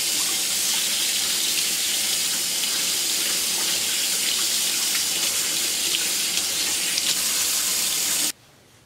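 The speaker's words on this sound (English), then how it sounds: "just run water through them until there is not a trace of the paint left over" Tap water runs steadily while paint brushes are rinsed under it, a loud continuous splashing hiss that stops abruptly near the end.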